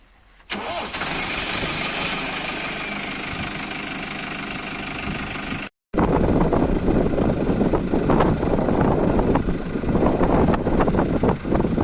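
A tractor engine cranks and starts up loudly, then after a brief pause runs continuously with a rough, knocking rumble close by.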